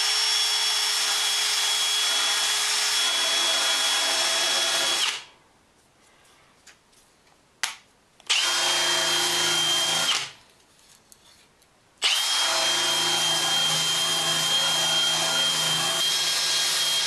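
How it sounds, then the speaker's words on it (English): A power tool buffs rust off the lower edge of an MTD snow blower, a loud steady high whine in three long runs separated by short silent pauses and a brief burst. "I think I'll buff this lower edge and just stick some kind of paint on."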